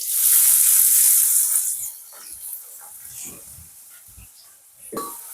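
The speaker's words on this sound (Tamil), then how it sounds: "இதுக்கு பிறகு நாங்கள் வெங்காயத்தை போட்டுக்கொள்வோம்" Chopped onions hit hot oil in a pan for a potato masala filling, setting off a loud, bright sizzle for about two seconds that then settles into a softer, steady crackle, with faint voice fragments near the end.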